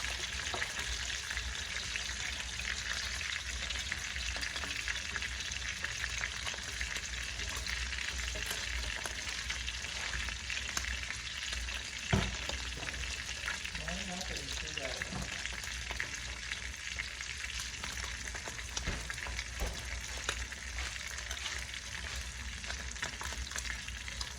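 Yellow squash cooking in a pan, a constant low sizzle and hiss held steady for the whole stretch, with a few faint clinks and a brief knock midway.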